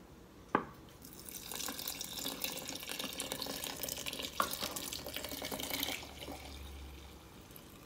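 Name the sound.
pouring water into kombucha brewing container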